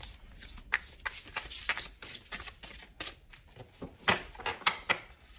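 Large tarot cards being handled and shuffled, giving a steady run of close papery flicks and riffles with a few sharper snaps and no talk.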